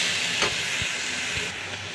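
Tomato with cumin, ginger, garlic and dried red chilli sautéing in a pan, giving a steady close sizzle and hiss with a few soft stirring knocks and no voices.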